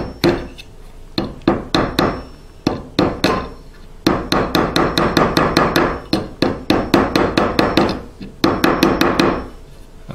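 Rapid, sharp hammer taps in uneven bursts, close and loud, tapping a part into a hole in a custom electric guitar body, some strokes quickening into steady runs before pausing.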